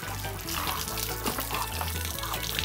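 Water poured and splashing steadily as horses are bathed before a barrel racing competition in Panama, a continuous wet rush close by, with faint low background sounds and no clear speech.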